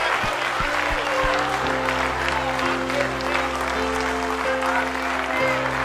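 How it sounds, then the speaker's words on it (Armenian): Sustained applause from a congregation at a prayer gathering, with many hands clapping steadily over held musical tones. "Տեր, ծափերը քեզ ա ուղված"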